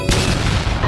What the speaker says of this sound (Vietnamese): Như một vụ nổ chiếc bình bất ngờ bắn bọt trắng xóa khắp nơi